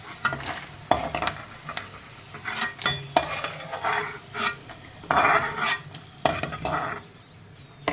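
Garlic frying in oil in a pan for pirandai thogayal is stirred and scooped with a metal spoon, giving repeated close scrapes and clinks over a soft, steady sizzle.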